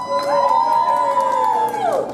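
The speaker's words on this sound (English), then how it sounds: "Please give her a round of applause." A loud crowd at a peaceful street march cheers and whoops, with one sustained high shout riding above the noisy roar before it fades.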